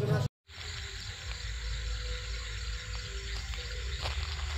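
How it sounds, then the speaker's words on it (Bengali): Crickets chirping at night on a walk in Shantiniketan, with frogs calling too: a steady, dense insect drone holds throughout after a brief dropout at the start, fairly loud and continuous with no talk. "ঝিঝি পোকার ডাক, ব্যাঙের ডাক"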